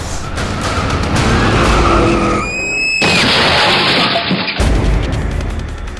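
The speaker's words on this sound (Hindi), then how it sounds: "नोएडा ग्रेटर नोएडा एक्सप्रेसवे पर गाड़ियों के बीच छिड़ी रेस" Cars racing on the Noida–Greater Noida expressway, with loud, close tire skids and squeals over dense engine roar, a sharp screech near the middle and continuous road noise throughout.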